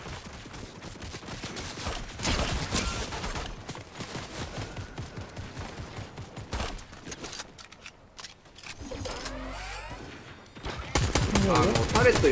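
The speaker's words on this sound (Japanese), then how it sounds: "タレット撃たれてる" Dense, rapid gunfire from a Fortnite match fills the scene, bursts of automatic shots at a turret crackling continuously, with players talking over the battle noise.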